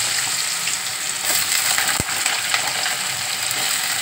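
Cardamom, cinnamon, cloves, bay leaf, cumin and potato frying in hot oil for tempering, a steady close hiss of sizzling with no talk and one brief sharp tap near the middle.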